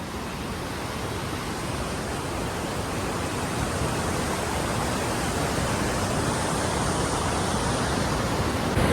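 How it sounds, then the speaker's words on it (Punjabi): Glacier-fed mountain waterfall near Gobindghat on the route to Hemkund Sahib: loud, constant broadband roar of rushing water, close and unbroken throughout, with no voices. "ਆ ਹੁੰਦਾ ਝਰਨੇ ਵਾਲਾ ਪਾਣੀ ਉੱਪਰੋਂ ਗਲੇਸ਼ੀਅਰ ਤੋਂ"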